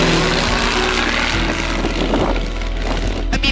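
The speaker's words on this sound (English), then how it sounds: "And then right about here, I pull the airplane into the air." A Stinson 108 propeller airplane takes off, its engine a loud, steady, close droning roar that holds throughout with no talking.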